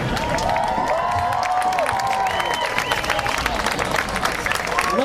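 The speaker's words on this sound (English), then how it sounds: "I thank all of you for that nice round of applause you gave me" Audience applause and cheering fill a high school marching band show by the New Philadelphia Marching Quakers at a county band preview, a dense, steady roar of clapping with crowd shouts and a few voices over it throughout.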